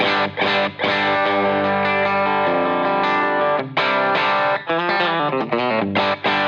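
An electric guitar fed through mild compression into a clean amp plays a continuous, loud run of ringing chords and notes with sharp attacks and brief gaps between phrases.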